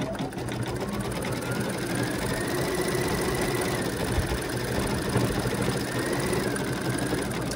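A computerized embroidery machine stitches the wings onto a baby bee bib, running as a steady, continuous mechanical whir with fast needle chatter throughout, close and loud, with no talk.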